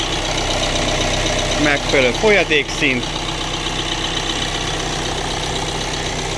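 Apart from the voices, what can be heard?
Renault Trafic 1.6 dCi diesel engine idling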